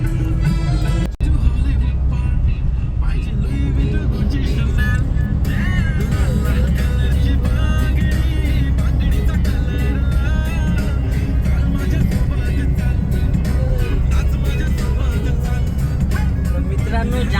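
A car travels the winding roads of the Konkan region near Ratnagiri, its steady engine hum and road rumble filling the cabin continuously and loudly from start to finish, with someone talking over it.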